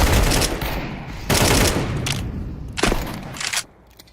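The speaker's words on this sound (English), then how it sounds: "AK shots." AK rifle fire in an online tactical shooter, loud bursts of rapid automatic shots in several close volleys separated by brief gaps, with heavy broadband impact and echoing tails.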